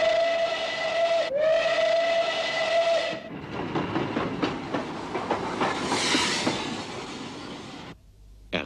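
A train sound mimicked by a voice, a sustained steam-whistle-like tone broken once, then a rushing, chugging noise that fades before a sudden stop.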